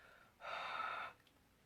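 Heavy breath blown onto an inked rubber stamp during paper crafting, a single soft airy exhale of under a second, fairly close and quiet, alone with no talk.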